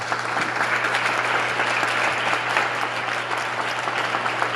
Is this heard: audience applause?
yes